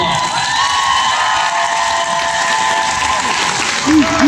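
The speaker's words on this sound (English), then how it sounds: "Please give them a round of applause." A graduation crowd applauds its teachers, a broad wash of clapping that holds steady and fairly loud throughout, with a faint tonal hum running underneath.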